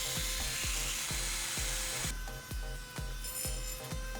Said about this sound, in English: I'm drilling a hole here